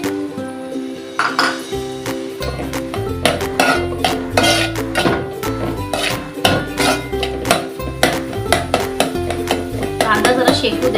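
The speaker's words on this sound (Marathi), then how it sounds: "त्याला कांदा टाकते फोडणीमध्ये." Onion fried in a pan for pav bhaji, stirred with a metal spoon that clanks and rings against the pan again and again over a low frying hiss.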